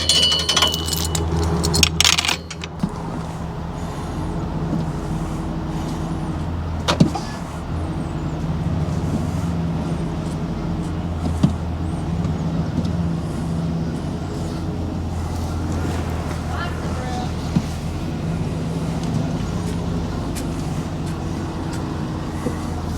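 A classic car idles and is driven slowly to rehook a trailer, a steady low engine rumble throughout with occasional clunks and knocks, loudest at the start.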